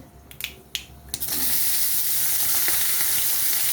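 Bottle gourd peels dropped into hot mustard-seed oil with salt and turmeric give a few sharp crackles, then burst into a loud, steady close-up sizzle that holds to the end.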